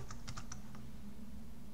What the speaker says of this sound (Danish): så jeg skriver ordet vampyr ind